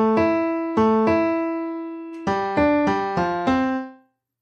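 A theme from Star Trek: The Motion Picture, rendered as bold orchestral notes: three accented hits, a sustained held tone, then a quicker run of five punchy accented chords that rings out and stops.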